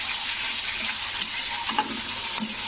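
Masala for a katla kalia fish curry sizzles quietly in a pan as it is stirred, a soft continuous fry with a few light scrapes and clicks of the spoon, no voices.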